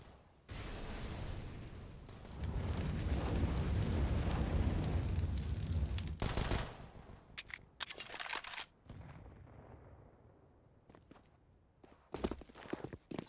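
Grenade blasts on the Dust2 map in a Counter-Strike esports match: a loud, sustained rumbling burst, followed by scattered sharp bangs and gunfire-like cracks that fade out.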